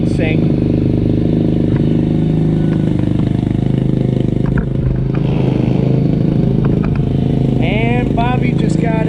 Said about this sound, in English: I changed the oil on my new SSR. Got it warming up right now.